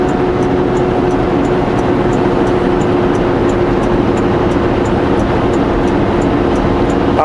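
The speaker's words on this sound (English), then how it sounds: "My quad is quite a bit longer than the normal quad because it's a two-up quad, so it's a two-seater" A long two-up, two-seater quad bike drives along, its engine a loud, unbroken rumble under heavy wind buffeting the whole time, with a faint regular ticking above, and no one speaking.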